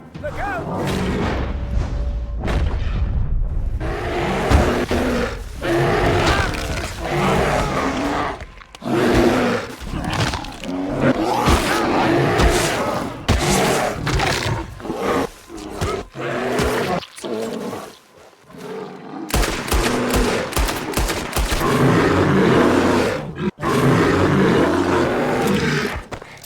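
A bear roars and growls during a hunt in Red Dead Redemption 2, loud and close, in repeated bursts mixed with booming gunshots and shouting voices.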